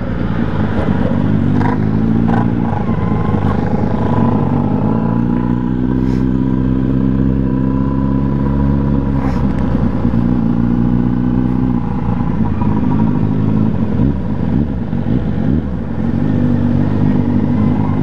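A Kawasaki Z800 motorcycle at a busy roadside gas station revs and idles repeatedly, close and loud, with sharp crackling exhaust pops between the throttle blips over a long steady engine drone.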